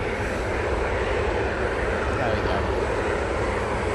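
A Ryanair airliner departing Manchester Airport for Marrakesh sends a steady, even, broad jet roar that holds throughout at moderate distance.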